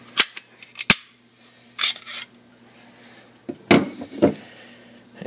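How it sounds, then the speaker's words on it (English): Glock 17 pistol being taken apart after the magazine is removed: a few sharp metallic clicks and clacks of the polymer frame and slide, separated by quiet pauses, close and fairly loud. "Then you want to disassemble your gun."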